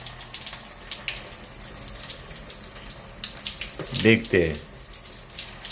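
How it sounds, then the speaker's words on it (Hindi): A shower runs with hot water just turned on, giving a steady hiss of spray that swells into a couple of louder gushes near the end. Someone speaks briefly over it. "अभी उन्होंने गर्म पानी चालू किया है शॉवर में."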